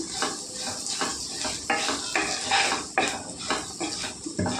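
Okra fry with chili powder stirred in a pan, a spatula scraping and clinking against the metal in an irregular rhythm over a light sizzle, close and fairly loud.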